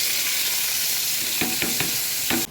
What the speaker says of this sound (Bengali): এইটা আমি তেলের উপর দিয়ে ভাজি করব